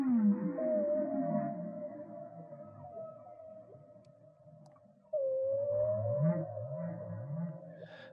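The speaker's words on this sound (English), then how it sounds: "hearing the whale call" Whale call: long, low, mournful moaning tones with rising swoops, a pause, then another drawn-out call, heard alone and fairly quiet.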